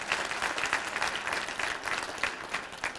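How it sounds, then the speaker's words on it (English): Sustained applause from a college audience at a 2015 State of the College address, steady dense clapping throughout with no speech over it. "I think that's worth applauding for."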